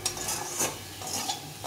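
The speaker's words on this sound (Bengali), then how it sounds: "তো এই ভাজাটা আমি হিট কমিয়ে দিয়ে একটু ভেজে নেব" Potatoes fry in a pan over lowered heat, with a soft sizzle under brief scraping stirs of a utensil, a few quick strokes close by and fairly quiet.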